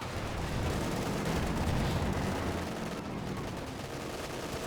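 Sustained M1919 machine gun fire in the World War II strategy game Company of Heroes 2, a dense, loud, continuous rattle of rapid bursts filling the whole stretch with no speech.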